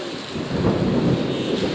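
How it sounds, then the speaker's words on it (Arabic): A deep rumble of thunder swells and rolls close by during a heavy storm in Alexandria, Egypt, heavy and low beneath a wash of falling rain. "سامعين الرعد والبرق."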